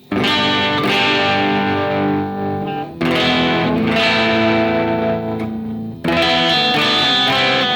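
An electric guitar in standard tuning strums three sustained chords, each left ringing before the next, through a fairly clean Guitar Rig amp tone with no voices.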